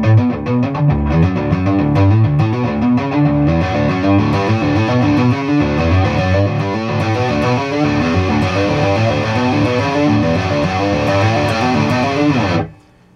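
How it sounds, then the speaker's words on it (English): An electric guitar through heavy distortion plays hammer-ons in pairs, struck harder to sound bigger, as a dense continuous wall of saturated tone that rings loudly for about twelve seconds before cutting off. "I'm slowly taking my hand off to make it sound bigger, and I'm also hitting a little bit harder as I'm hammering on"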